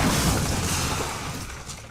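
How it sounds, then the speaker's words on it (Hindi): A truck crash effect in a horror story: a loud, dense, noisy burst that holds steady for about two seconds, then fades slightly, with no voices. "जैसे ही गाड़ी हाईवे पर टच हुई, ट्रक आया धड़ाम।"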